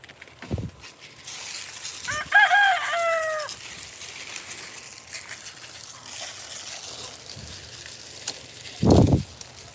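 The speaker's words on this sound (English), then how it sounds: "These scumbag chickens won't give it up." A rooster crows once clearly at mid-distance amid other backyard chickens, with a few soft clucks and scattered thumps and handling noises around it.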